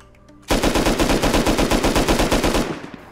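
Rapid automatic gunfire in the video game Rust, one loud, close burst of about two seconds with evenly spaced shots, cutting off abruptly.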